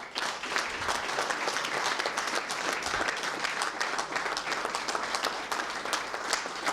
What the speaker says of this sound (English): So please can we give a round of applause to the sponsors as well